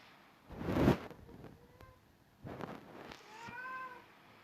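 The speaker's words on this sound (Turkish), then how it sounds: "bunlar da miyavlayıp duruyor buralarda" A few cat meows nearby, a loud drawn-out one first, then two softer mewing calls separated by brief quiet stretches.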